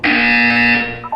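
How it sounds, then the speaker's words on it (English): A loud, harsh electronic buzzer in the video game Portal 2 blares steadily for about a second, then cuts off abruptly. "You will hear a buzzer."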